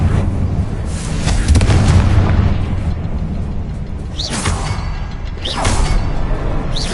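Fiery Confringo spell blasts from Hogwarts Legacy: loud, booming broadband explosions with rumbling low end, a big burst early on, then two sharper blasts near the end, with no voices.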